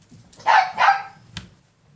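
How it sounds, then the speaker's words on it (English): Two sharp dog barks close by, followed by a softer yip, with no talking. "My dogs."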